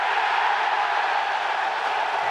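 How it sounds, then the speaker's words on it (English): A crowd at a UFC press conference cheers and applauds in a steady, dense roar that holds at an even level throughout, with no distinct voices standing out. "Wow, they're really cheering."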